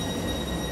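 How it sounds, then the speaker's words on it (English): A Tyne and Wear Metro train rumbles steadily through Manors station, a close, continuous rail drone with faint steady high tones. "Oh, there's another metro as well."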